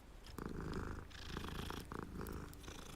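A cat purrs in Hogwarts Legacy, a close, rhythmic rumbling purr in steady pulses with soft breathy cycles, quiet and alone.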